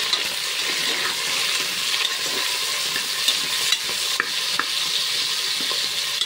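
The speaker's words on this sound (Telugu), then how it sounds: "ఇప్పుడు తిప్పాలి." Onion pieces, green chillies and curry leaves fry and are stirred in a pan for sambar: a constant crackling sizzle broken by repeated spoon clicks and scrapes, close and fairly loud.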